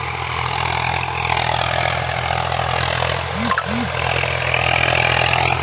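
A tractor engine runs at a steady idle in a rural farm setting, producing a continuous loud hum throughout, with a couple of brief whistling tones near the middle.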